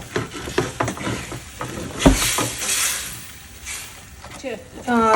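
Beef shank with vegetables braising in a pot on a gas stove, with stirring scrapes and a steady bubbling sizzle under a voice talking in Polish.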